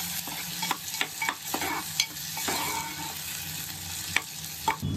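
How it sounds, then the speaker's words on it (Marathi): Chilli and onion stir-fried in a pan over a low flame, a steady close sizzle broken by repeated sharp scrapes and clinks of a spoon against the metal. "सगळं आता आपण हलवून घ्यायचं."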